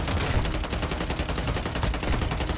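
Rapid bursts of automatic gunfire crackle continuously in a Warzone Mobile battle royale match, dense and steady for a few seconds with no talking.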